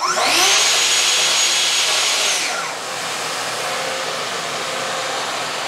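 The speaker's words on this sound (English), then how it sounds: "you can hear that the dust extractor turned on" Shop dust extractor switching on alongside a battery-powered saw in a metal workshop, a loud rushing whir that rises sharply, then settles into a steady airy roar.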